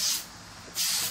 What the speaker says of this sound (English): I'm just going to spray it down, you know, fairly liberally